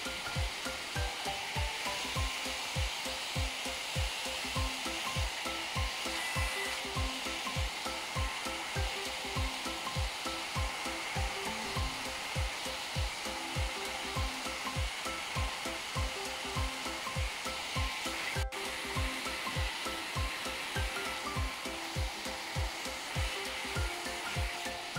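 A hair dryer blows steadily and loudly the whole time, a constant rushing whoosh with a faint pulsing rhythm and no talking.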